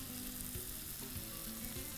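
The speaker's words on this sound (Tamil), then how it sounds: "பாலை கொதிக்க விடுங்க." Milk being brought to a boil on a stovetop for making paneer, with a steady bubbling, sizzling hiss and soft irregular pops throughout, fairly close and alone with no talking.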